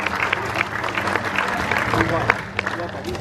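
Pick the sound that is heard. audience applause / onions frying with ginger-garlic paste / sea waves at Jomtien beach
audience applause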